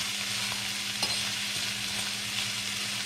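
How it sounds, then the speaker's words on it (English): A tuna casserole sizzles in a pot on high heat with a steady frying hiss and faint scrapes of stirring, no voices. "I will tend to keep stirring"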